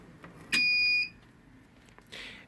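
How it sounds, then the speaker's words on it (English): An InkEdibles CakePro950 edible-ink printer gives a single clear, steady electronic beep of about half a second as its tray is pushed in, followed by faint mechanical shuffling. "until you hear a beep."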